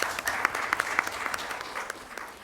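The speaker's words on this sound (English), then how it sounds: "So a big round of applause for all of you." Scattered audience clapping at an entrepreneurship session, individual claps distinct and uneven, moderately close with light room noise.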